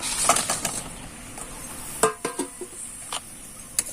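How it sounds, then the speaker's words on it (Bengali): Raw mango pieces stirred continuously in hot sugar syrup in a pan, with intermittent metallic scrapes and clinks of a utensil against the pan over a soft background hiss. "চিনির রসে দিয়ে আমি এইভাবে করে অনবরত এটাকে নাড়তে থাকবো।"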